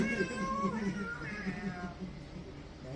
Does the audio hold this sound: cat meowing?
yes